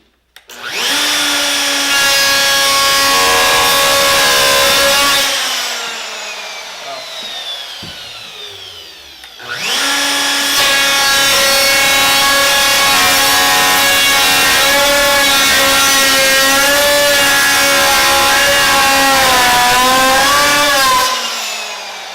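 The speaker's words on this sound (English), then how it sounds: "that's probably too much wood for the router to take out at once" Loud, close router cutting into wood while building a skateboard, a sustained high whining motor roar with a strained tone that dips briefly around the midpoint and then resumes until the end.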